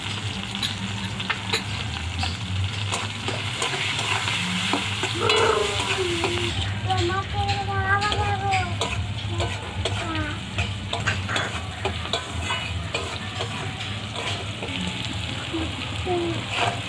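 Food fries and sizzles in hot oil in a pan, seasoned with salt and turmeric and cooked until reddish, while a utensil stirs it. A steady, close sizzle continues the whole time, with occasional scraping.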